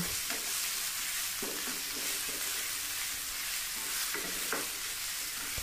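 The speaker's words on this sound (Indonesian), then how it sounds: "Tah sekarang kita aduk dan kita tumis sampai matang." Spice paste stir-fried in a little oil in a non-stick pan, with a steady, soft sizzle throughout and repeated scraping and stirring strokes on top, with no talk.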